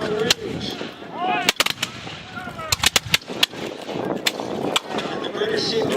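Musket volleys crack out at a Battle of Bunker Hill 250th anniversary reenactment in Gloucester, Massachusetts, several sharp irregular shots close and far over a crowd murmur, with voices talking throughout.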